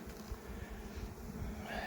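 Honey bees at a hive in a mountain-pasture apiary, where the colony has drawn out three combs, make a dense, steady buzzing that holds close and even throughout, with no voices.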